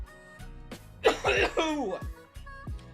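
A person lets out a short burst of rough coughs and throat-clearing up close, with chuckling and speech mixed in.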